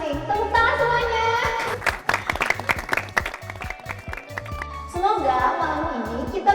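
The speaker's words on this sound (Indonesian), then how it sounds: "Tepuk tangan semuanya." An audience at a reunion gathering breaks into a burst of clapping, dense and fairly close, under music and a voice that continues over it.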